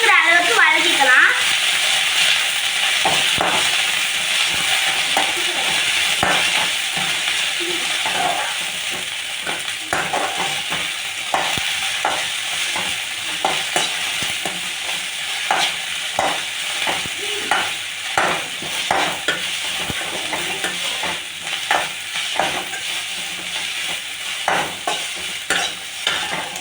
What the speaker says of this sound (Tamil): புதினா கொத்தமல்லி நல்லா சுருங்குற அளவுக்கு வதக்கிக்கலாம்.